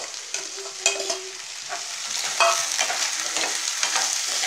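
Green beans fry with onions in a pan, with a soft hiss under a few clanks and scrapes as they go in and get stirred, then a fuller sizzle, close by and without voices.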